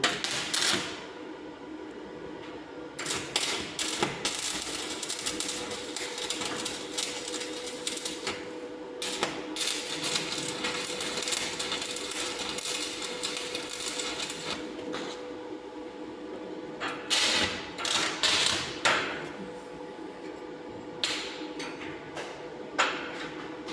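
Tack welding 5 mm low-carbon steel plates, 200 mm long, with two short tacks: a steady crackling, sizzling arc noise with a few louder bursts, close by and heard alone without speech.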